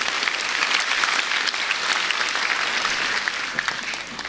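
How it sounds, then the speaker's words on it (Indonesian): An audience applauding at an Indonesian stand-up comedy show, a steady wash of clapping that thins slightly toward the end. "Tepuk tangan."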